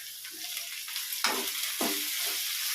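Crushed ginger and garlic hit hot oil for a fish curry, a soft continuous hiss and sizzle with a couple of brief sharper bursts as it's stirred, fairly quiet.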